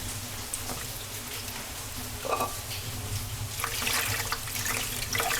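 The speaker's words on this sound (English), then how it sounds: "It is best if you do this part under fresh running water." Tap water runs steadily over codfish being rinsed, a continuous hissing splash with a few louder spatters from handling, close and alone.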